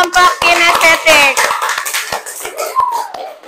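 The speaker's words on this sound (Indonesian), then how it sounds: "Beri tepuk tangan dulu untuk kelompok kinestetik." Classroom applause during a lesson, quick scattered claps mixed with children's voices and chatter, loud and close, thinning out toward the end.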